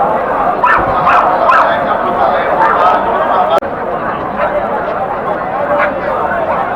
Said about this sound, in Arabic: العمر جراء مالينو ذكور، العمر 3 اشهر